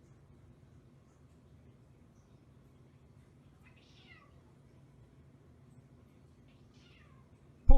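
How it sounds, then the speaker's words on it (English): A cat meows twice from a distance, each call brief and faint over a steady low background hum, followed by a sudden loud knock at the very end. "Poor cat wants to go outside."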